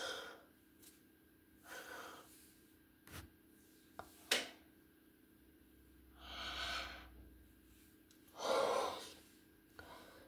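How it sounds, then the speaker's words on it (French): A tired woman yawns close to the microphone, giving long breathy exhalations that swell and fade, along with a few soft clicks and breaths in an otherwise quiet room. "désolé pour le bâillement"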